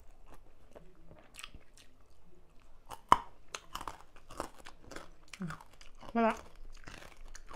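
Crunchy som tam papaya salad with pork roll and shrimp being chewed up close, irregular bites and crunches with crinkling, while a person talks between mouthfuls.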